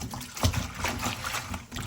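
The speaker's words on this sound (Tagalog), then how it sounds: "hugasan po natin ito ng tubig" Running tap water trickles and splashes over fresh vegetables such as kangkong, radish and chili as they are rinsed, a soft, close, uneven splatter with a brief louder splash.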